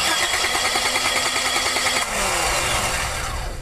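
A car engine cranks on the starter during a no-start, no-spark diagnosis, a continuous loud whirring drone held close for several seconds with a slight shift in pitch partway through.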